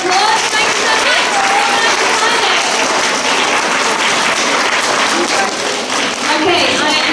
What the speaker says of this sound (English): Shall we give Miss Marchese a big round of applause?